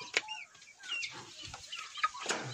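Kotlyarevsky chickens clucking and calling in short bursts, a few sharper squawks standing out, fairly close with no talking.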